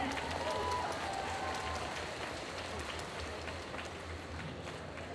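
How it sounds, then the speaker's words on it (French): Audience at a cosplay contest applauding a contestant, a dense, sustained wash of clapping from a large crowd in a hall, steady throughout. "On peut encore l'applaudir bien fort, s'il vous plaît."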